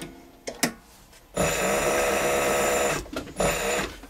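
Leather edge-shaving machine working on notebook cover edges, a few clicks followed by a steady loud mechanical whir lasting over a second, then brief bursts as it stops and restarts.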